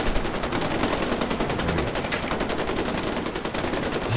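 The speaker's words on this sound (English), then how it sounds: "Oh, they're just shooting walls." Dense, continuous rapid gunfire from enemies spraying bullets at walls in Far Cry 4, loud and sustained bursts with no pauses and no talking.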